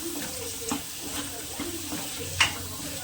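Cooked black koyri bean pods sautéed with masala in a pan give a soft, steady sizzle with occasional stirring scrapes and one sharper clink, while a voice talks faintly in the background.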